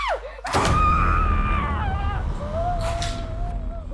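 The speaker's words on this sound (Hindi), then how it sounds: "ये भी ना बहुत चिल्लाने लगी है।" A woman screams loudly indoors in a dramatized crime-show scene, with one long, wavering, high-pitched cry that rises and falls before trailing off into a thinner, weaker wail.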